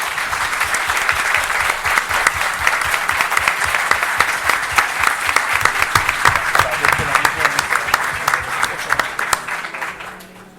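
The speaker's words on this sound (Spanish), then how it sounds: "Un fuerte aplauso para ellos." Audience applause closing a round table panel on manga in Spain, a dense steady wash of clapping from a crowd that carries on for about ten seconds before tapering off at the end.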